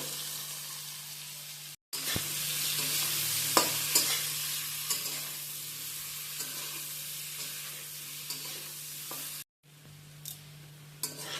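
Potatoes and cauliflower pieces frying lightly in hot oil, a steady broad sizzle with occasional sharp pops and stirring scrapes, interrupted by two brief silent breaks, close and fairly loud with no talk.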